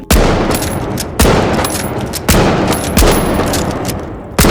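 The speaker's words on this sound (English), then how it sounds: "The new gun is this KS-23. It's like a shotgun." KS-23 shotgun firing in the video game The Finals, four loud, evenly spaced booming shots, each with a ringing tail.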